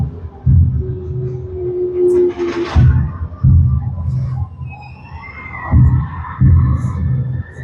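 Slow heartbeat-like low thumps from the Phantom Manor attraction at Disneyland Paris, heard at Melanie's grave, pulsing in a few irregular pairs over a droning rumble with a brief hiss in the middle.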